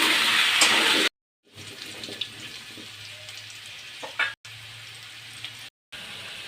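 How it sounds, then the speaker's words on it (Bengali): Potatoes stirred and fried in a pan for Bogura-style aloo dum, a loud hissing sizzle at first, then a quieter steady fry with occasional scrapes, cut by short silent gaps. "এখন আমি আলুগুলো নাড়াচাড়া করে ভেজে নেব।"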